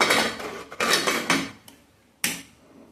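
Boiled jackfruit being stirred in a pot for pickle: several close, uneven scraping and clanking strokes of a utensil against the pot, then a pause and one last knock, with no talking.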